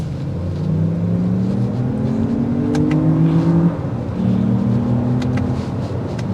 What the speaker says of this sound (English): It almost has like a V6/V8 sound that's pumping out of the hood